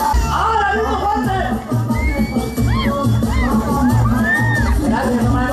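A comedy show audience in El Salvador shouts and whoops loudly together, a dense, sustained roar of many voices with rising cries, close and continuous.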